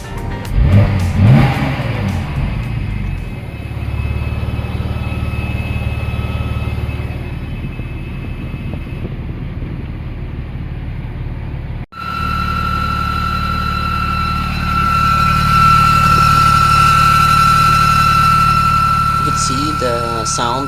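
Odd whine from the steering oil reservoir of a Porsche 996 Turbo, a steady mid-pitched tone running over the idling engine and becoming stronger in the second half, with a brief break near the middle.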